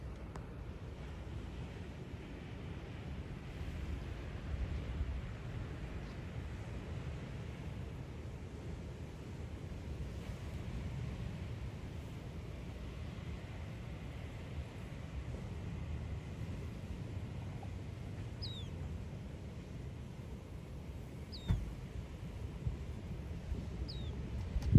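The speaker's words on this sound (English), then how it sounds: "I just love watching the waves bouncing off the rocks." Ocean waves washing against rocks on the California coast, a continuous low rumbling surge with wind buffeting the microphone and a few faint higher chirps near the end.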